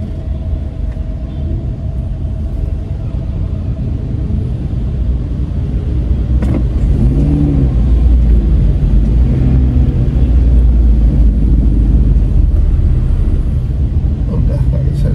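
Heavy traffic jam with a steady low rumble of idling cars and engines close by, continuous throughout, with faint voices at times.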